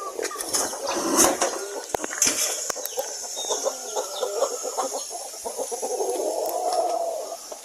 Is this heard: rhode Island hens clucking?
yes